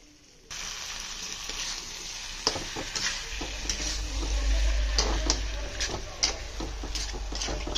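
Potatoes added to mustard seeds already frying in a pan on a home stove, giving a steady loud sizzle with scattered crackles and pops throughout, no talking.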